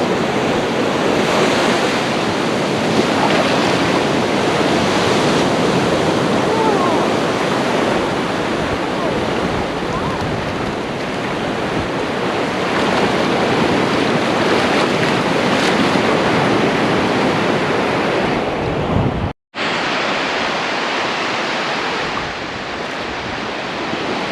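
Loud, continuous surf at a beach at low tide at Hat Head, waves rolling in under heavy wind buffeting on the microphone, with a brief dropout near the end.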